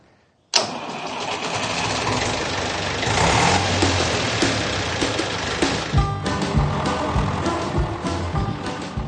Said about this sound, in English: Even Billy the Box's old tractor knows the way to the sea.